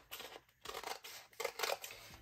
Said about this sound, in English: So I'm gonna trim right at that line at the top